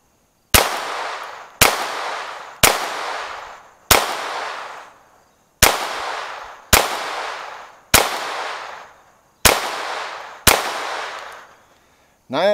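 Nine sharp .22 gunshots from an Advantage Arms conversion firing CCI Mini-Mag ammunition crack out at a steady pace, each a loud close report with a short decaying tail, separated by brief silences.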